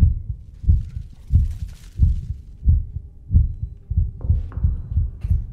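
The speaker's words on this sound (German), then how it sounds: "Herzschlag." Heavy heartbeat in the horror game Inside The Backrooms, low thumping double pulses in a steady rhythm, about eight beats, with a faint tone entering near the end.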